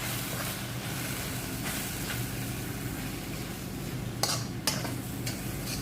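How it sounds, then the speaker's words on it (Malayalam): Coriander and chili powder masala being stirred in a pan, a steady, close scraping and soft sizzling bed with a few sharper clinks of a spoon against the pan near the end, quiet and unbroken. "ഇത് നന്നായിട്ടൊന്ന് ഇളക്കുവാണ്."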